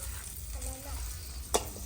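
Steady sizzling and frying as cicadas cook in a hot pan over high heat, with occasional stirring scrapes and one sharp clack near the end.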